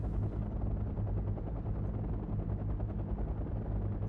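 Helicopters in the real-time strategy game Wargame: Red Dragon, in a 1992 Second Korean War campaign battle, make a continuous, dense rotor drone with faint rattling gunfire mixed in and no talking.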